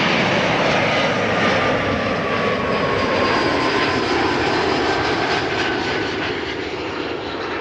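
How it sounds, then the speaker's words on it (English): A fixed-wing airliner arriving from Warsaw lands at Amsterdam Schiphol Airport, its engines giving a loud, steady roar that fades slightly toward the end, with no talking. "Arriving from Warsaw, smooth landing."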